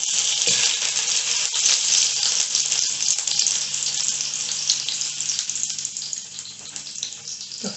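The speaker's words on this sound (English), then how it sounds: "Let's fry pineapple a little bit first." Pineapple frying in a pan gives a loud, dense, continuous sizzle with a bright hiss, steady throughout with a slight ease-off toward the end and no talk.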